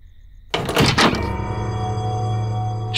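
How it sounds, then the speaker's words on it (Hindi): A door is shut with a single sharp thud in a Hindi TV crime drama scene, followed by a lingering low hum. No one speaks. "दरवाजा बंद कर दो।"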